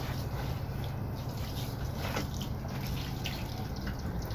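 Water pours and splashes onto soil over freshly planted potatoes in a garden, a continuous close trickle and patter with no talk.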